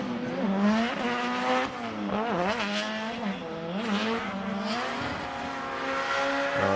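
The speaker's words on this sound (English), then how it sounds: "Engine sounds much healthier than it did this last run." A drift car engine screams around Okayama International Circuit during an FDJ2 Round 6 qualifying run, revving hard and continuously up and down, loud and close, with rising and falling pitch sweeps through the whole stretch.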